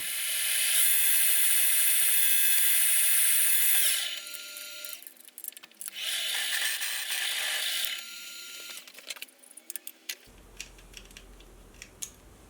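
A power drill whines loudly and steadily while boring into hardened metal on a lathe, pausing and restarting, then a few clicks and light handling noises at the end.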